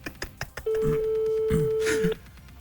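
A telephone call being dialed: a few quick keypad tones, then one long steady dial tone as the line waits for pickup, with faint voices underneath.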